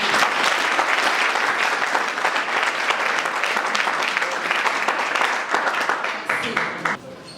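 A conference audience at a Kananga institute gives the speaker a loud, dense round of applause that holds strong for several seconds, then thins out near the end, with some voices mixed in.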